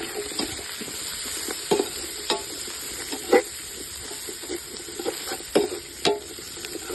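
Shallots, ginger, green chilli and garlic fry in native coconut oil, a soft steady sizzle broken by repeated scraping stir strokes and light utensil knocks against the pan.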